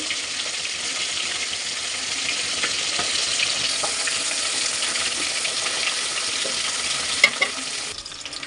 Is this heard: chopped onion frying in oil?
yes